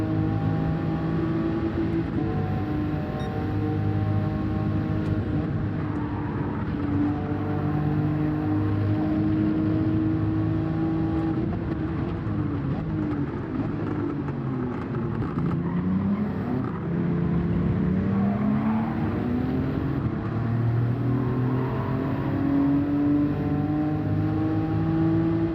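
Race car engines in Gran Turismo 7 drone and whine steadily for the whole stretch, with pitches rising and falling as the cars shift and accelerate around the track. No voices are heard over the engines.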